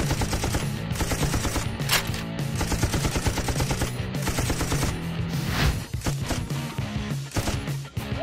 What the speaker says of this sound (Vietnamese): Hai bên không đấu tay không nữa mà dùng súng.